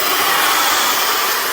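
AINA BLDC brushless hair dryer running at full speed, a steady loud airy roar with a high whine, constant and close with no voices.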